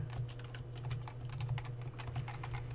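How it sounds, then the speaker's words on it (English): Continuous rapid typing on a computer keyboard, with irregular clicky keystrokes at moderate volume over a low steady hum and no talking, heard while someone types a message into a chat. "Do you mind typing that in the chat?"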